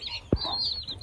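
A single short hen cluck rises sharply and fades, heard once over a soft outdoor background with faint bird chirps.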